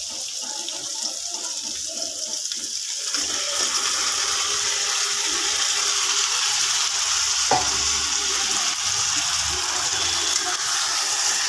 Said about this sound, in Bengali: চিকেনটা এখন বেশ করে কষাচ্ছি আমি